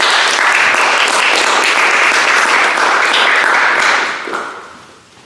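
A crowd applauds a water resources engineer from Grass Valley as he comes up to speak, a full burst of close, dense clapping that tapers off over the final second.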